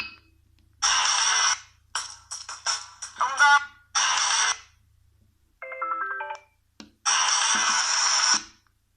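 A 2006 Sony Ericsson W300i phone plays an MP3 ringtone, loud electronic music in bright bursts separated by short pauses, heard alone.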